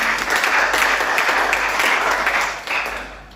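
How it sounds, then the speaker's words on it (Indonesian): A church congregation claps loudly and continuously in praise, a dense wash of hands that softens near the end. "Tepuk tangan bagi Tuhan kita."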